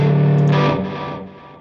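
A distorted electric guitar lead tone played through a Line 6 Helix rings as one loud, sustained note that gradually fades over about a second and a half.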